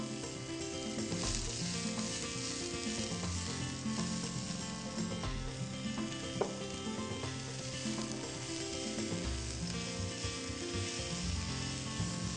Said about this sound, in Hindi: तो आपने पालक को थोड़ा ही फ्राई करना है